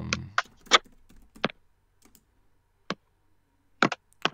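Scattered keyboard key clicks in short irregular bursts, close and fairly quiet, with long pauses between taps while typing words for a skribbl.io drawing game.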